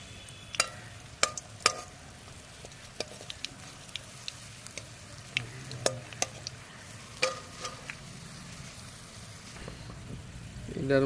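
Green chillies fry in hot oil in a home kitchen pan, giving a steady low sizzle broken by sharp, irregular clacks and scrapes from stirring, close and moderately loud throughout.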